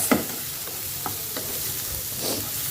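Onions frying in a pan, a soft steady sizzle with a few light scrapes and stirs, quiet and close with no voices.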